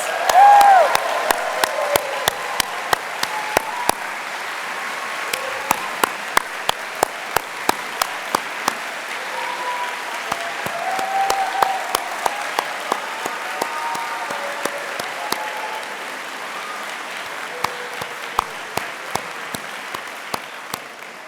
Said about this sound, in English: let's give them all another big round of applause